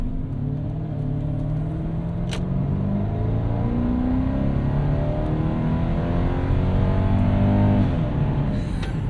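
A 1998 Lexus GS 400 accelerates hard toward the redline, its engine note rising steadily through a gear, then dropping at a shift and climbing again, loud and close from inside the car.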